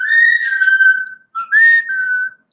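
Two clear, steady whistled tones, a long one and then a shorter rising one after a brief pause, loud and close with nothing else heard.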